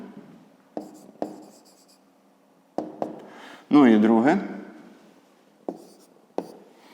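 Hand writing of numbers in a fifth-grade maths exercise: close, short scratchy strokes arrive in scattered bursts over a quiet room, with one brief loud voiced sound in the middle.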